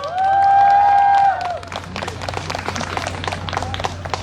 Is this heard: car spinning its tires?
no